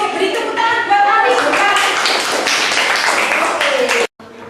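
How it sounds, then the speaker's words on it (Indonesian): Classroom applause for a fourth-grade student, a dense steady patter of many small hands clapping for about four seconds, with children's voices mixed in, then stopping abruptly. "Oke, beri tepuk tangan buat Afi."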